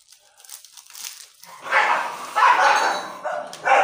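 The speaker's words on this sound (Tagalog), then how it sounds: "away na yung aso sa labas" Several dogs fight outdoors, barking and snarling at a distance in rough bursts, growing louder toward the end.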